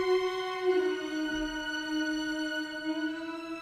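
Violins and cellos playing alone, their sustained lines moving in opposite directions before settling onto a held note, smooth and steady with a soft low swell partway through.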